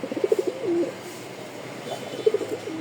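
A pigeon coos at close range: a short run of soft, low pulsing coos, a pause, then another brief cooing burst, with no talking.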